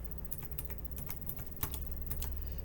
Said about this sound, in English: I'm going to just type in the word key code